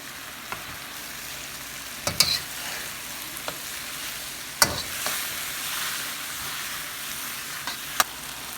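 Beef and spring onion stirred through a thickened sauce in a pot, occasional sharp scrapes and clacks of the utensil over a steady low sizzle.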